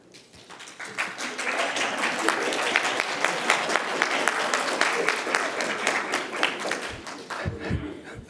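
Applause builds quickly from a conference audience at an address on historically Black colleges, a dense, sustained round of clapping that holds steady before thinning out near the end.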